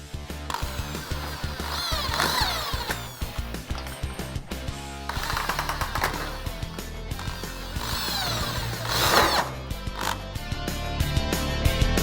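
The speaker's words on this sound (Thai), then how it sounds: "เจาะข้างบนนะครับ เพื่อให้มองเห็นฮาร์ดแวร์ข้างใน" A power drill whirs in repeated bursts close up, its pitch rising and falling as it bites into a computer case panel, with clicks and clatter between runs.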